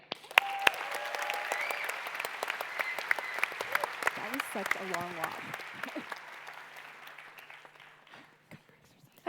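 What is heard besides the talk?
audience cheering and applauding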